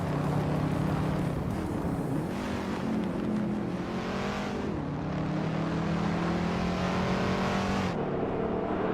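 A Lexus LFA race car in a racing video game screams at high revs, its engine note rising and dipping through gear changes while holding a loud, continuous, close-up whine throughout.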